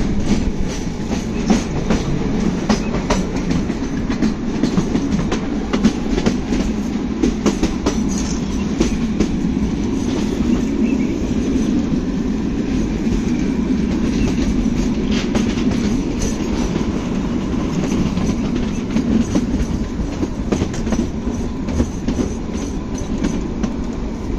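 A Kalka–Shimla narrow-gauge toy train runs through the hills near Gumman station just after leaving a tunnel, giving a steady close rumble with rhythmic clickety-clack of wheels on rails, unbroken and without voices.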